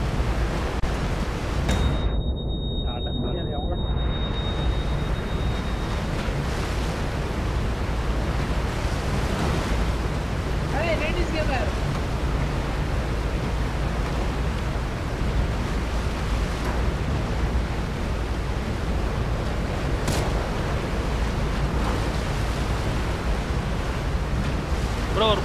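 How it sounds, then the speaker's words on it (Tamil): A speedboat races across open water in PUBG, giving a constant roar of rushing water and spray with wind noise. It stays loud and steady throughout, with a short dip in the wash near the start. "போட் இவ்வளோ ஸ்பீடாக போகுது."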